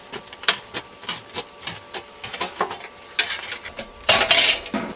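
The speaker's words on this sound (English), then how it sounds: "what we're going to have to do is cut the outside edge off." Metal snips cutting around the outer edge of a can lid for a homemade rocket stove, a close run of rapid crunching, clicking cuts that turns into a louder scraping burst near the end.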